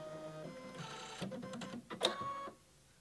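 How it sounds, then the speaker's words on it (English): An embroidery machine's automatic needle threader runs, producing a short sequence of mechanical whirring and clicking, with a sharp click near the end before it falls quiet. "So here's the needle threading button and I'm just going to press it and you'll see what it does."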